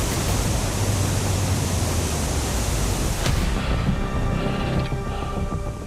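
A waterfall roars as a dense, steady wash of rushing water, loud and close, softening slightly near the end as a faint tonal hiss emerges beneath it.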